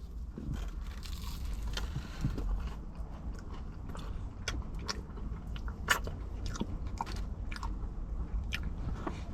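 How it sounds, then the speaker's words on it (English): Crisp crunching and chewing of pie crust pastry, close and fairly quiet, with irregular sharp cracks over a low background rumble and no talking. "when you bite into that crust, you get a really nice crunchy crisp."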